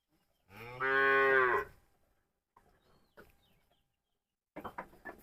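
A cow at a field watering spot lets out one long, loud, close moo, followed by quiet shuffling and a few short knocks and rustles.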